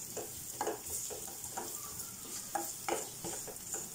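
Ingredients for tomato rasam roast in a pan, a faint, hissing sizzle with steady scraping stirs of a spoon recurring every half second or so, close but quiet.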